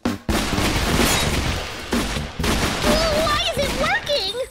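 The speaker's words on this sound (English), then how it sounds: "It doesn't stand a chance against my trusty revolver." Revolver gunshots in Minecraft, a rapid string of loud cracks that runs almost without pause, mixed with excited voices and high squeaky game cries.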